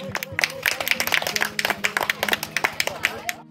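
An audience claps steadily at an environment fair prize-giving ceremony, a brisk stream of hand claps from a small crowd lasting a few seconds and then stopping.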